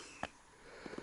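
Someone in a bathhouse breathes in through the nose, with one quick sniff early on and a pair of short, soft inhalations near the end, close and quiet.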